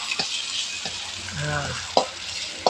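Shallots fry in hot oil in a Thai kitchen, a steady close sizzle with a few scraping stirs of a utensil against the pan and a brief muffled voice in the middle.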